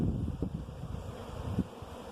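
Honeybees buzzing around an open, healthy hive with capped brood and honey comb in a community garden: a continuous low, dense hum with faint outdoor rustle and slight wind, no voices.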